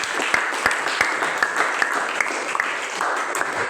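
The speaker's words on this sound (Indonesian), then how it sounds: "tepuk tangan untuk dia" A small classroom group of students claps for a classmate during an Islamic religious education lesson at IAIN Takengon, with quick, uneven hand claps close by and no one speaking over them.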